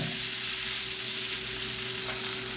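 Chopped cabbage hits hot oil with popped mustard seeds in a pan for cabbage thoran, giving a continuous close sizzle and faint stirring with no talk.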